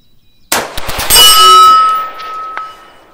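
A rifle fires at a steel target around 500 yards away on an outdoor range, giving a sharp report followed by a bright metallic clang that rings and fades over a couple of seconds.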